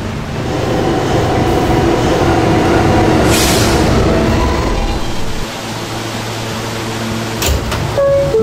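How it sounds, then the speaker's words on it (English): A subway E train of R160 or R179 cars rumbles loudly through Fairview Avenue station, a dense roar of wheels and motors that eases slightly, followed by faint clanks and a high squeal. "This is a West Watauk bound E train."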